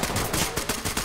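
Rapid video-game gunfire crackles in a tight, loud burst of repeated shots, with no talking over it.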